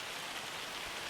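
Steady in-game rain from Farming Simulator 25 hisses evenly on a farm field, a soft, continuous patter with no voices over it.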